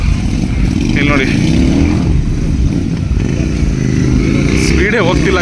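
Royal Enfield 650cc motorcycles, Interceptor models among them, race on a dirt track at Motoverse 2024 in Vagator, Goa. Their engines make a loud, unbroken roar while a commentator talks over it throughout.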